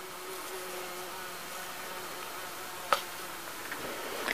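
Flies buzz steadily and softly around a village yard, a continuous faint drone with a brief sharper tap near the end.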